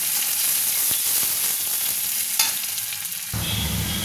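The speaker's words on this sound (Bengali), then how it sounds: "একটু পেঁয়াজ কুচি দেব, পেঁয়াজটা একটু লাল করে ভেজে নেব" Chopped onion sizzles in hot oil in a pan after black cumin seeds are tempered, a steady close hiss with a brief stirring scrape partway through and a shift in the frying tone near the end.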